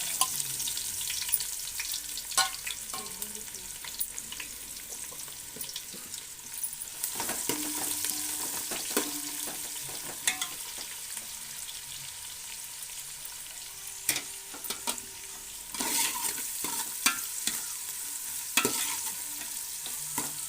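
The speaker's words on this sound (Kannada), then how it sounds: "ಈರುಳ್ಳಿ ಹಾಕ್ತಾಯಿದ್ದೀನಿ." Chopped onions fry in hot oil in a pan for mutton pulao, giving a steady soft sizzle with scattered scraping stirs and clinks, close and alone without talk.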